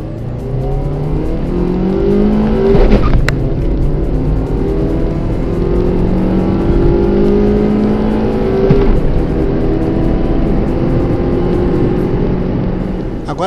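A car engine with a slipping clutch revs up in long rising sweeps, the pitch climbing and dropping abruptly between gears, loud and close.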